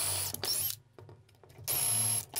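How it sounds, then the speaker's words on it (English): A power drill bores 1/8-inch holes along the top of a wooden base, its loud high whine running in two long bursts separated by a quieter pause with faint handling noises. "I drilled some holes along the top of the wood base."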